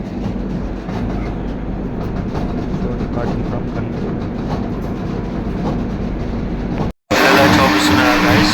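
The Guntur–Secunderabad Intercity Express passenger train rumbles along steadily with a continuous low roar and rattle, then a brief cut to a louder, brighter rushing noise; a voice briefly speaks.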